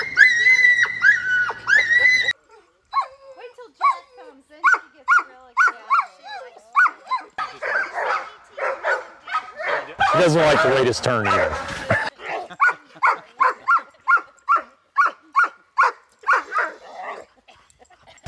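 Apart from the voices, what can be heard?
dogs barking and yelping with excitement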